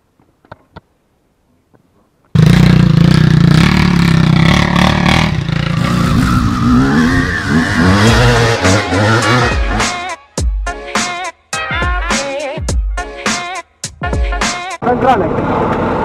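A car engine catching and revving up loudly, followed by a series of choppy revs and bursts, with voices talking alongside.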